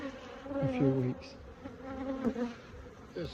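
Honeybees buzzing around an opened hive in an apiary, close and fairly faint, with individual bees whining past in short rising and falling hums over a soft colony murmur.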